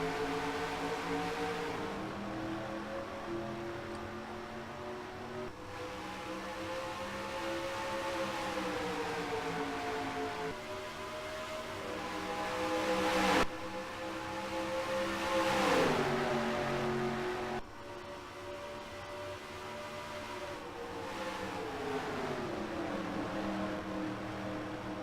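A field of race cars starts the Jegs 200, race 8 of the season, at Darlington Raceway: engines drone and rise in pitch through repeated gear shifts, a continuous pack roar lasting the full stretch.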